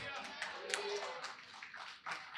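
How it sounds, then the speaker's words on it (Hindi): A church congregation claps together in a service hall, a dense wash of many hands close by that fades and swells, with voices talking and calling out over it. "You're clapping for your mother-in-law."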